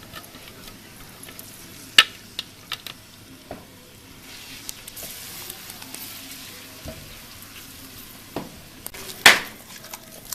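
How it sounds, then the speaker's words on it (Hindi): Chopped onions fry in oil in a kadai with a soft, steady sizzle, broken by a few sharp clinks and scrapes of stirring. "प्याज को डालेंगे इसमें कढ़ाई में, ऑयल मैंने डाल दिया हुआ है"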